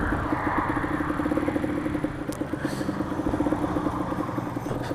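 A carbureted motorcycle idles and putters along roughly at the roadside, its engine thrumming steadily with a rapid, uneven rhythm. A couple of light clanks sound over it.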